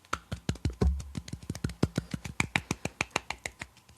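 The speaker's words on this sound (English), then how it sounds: "Everybody clap." Light, soft claps, the quiet golf-clap kind, come from a few people on cue: roughly twenty crisp, evenly spaced strikes in a steady rhythm, close and clear with no talking.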